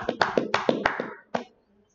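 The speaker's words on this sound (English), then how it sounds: "Let's clap it up." An audience at a live class claps in a short burst of several hand claps, then one final clap after a brief pause, and the room falls silent.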